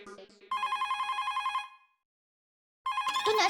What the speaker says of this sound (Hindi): ओहो टप्पू के पापा, आज अपने सामने से मुझे फोन किया।